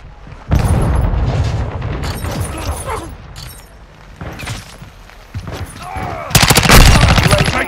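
Semtex explosion and rapid gunfire in Call of Duty: Modern Warfare II: sharp automatic bursts, booming blasts, and a large explosion near the end, with voices heard in between.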